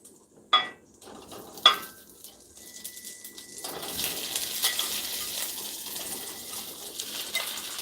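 Salisbury steak patties going back into a greasy pan, with two sharp clanks followed by a steady, continuous sizzle of frying that fills the rest of the clip without talk.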